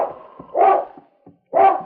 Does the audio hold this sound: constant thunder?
no